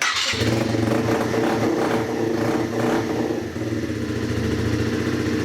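A 2018 Bullit Hero retro scrambler motorcycle starts close by, then its engine settles into a loud, steady throbbing run with a brief rev partway through.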